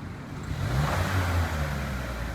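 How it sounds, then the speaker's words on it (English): Car engine revving as the throttle is snapped during an emissions smoke test, a brief mid-pitched rise in engine roar that holds, then eases slightly. "Then I'm going to snap the throttle."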